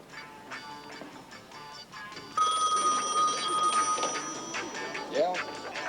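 An old-style telephone bell rings steadily in a 1970s domestic scene, a sustained ringing that starts partway through and continues over background room noise and some low voices.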